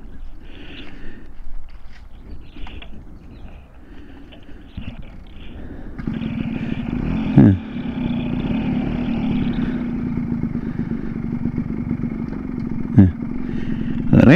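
A two-stroke motorcycle idles unevenly, then revs up and holds a steady buzzing drone on an extreme off-road trail, with two sharp throttle bursts partway through and people talking nearby.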